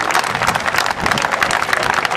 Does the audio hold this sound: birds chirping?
no